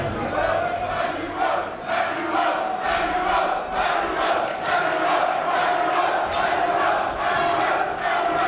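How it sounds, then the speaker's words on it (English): Crowd at a Lion Fighting Championships bout chants a fighter's name, a loud rhythmic roar of many voices pulsing in repeated beats across the whole stretch, with no commentary over it. "the majority of the crowd is chanting Emanuel's name here"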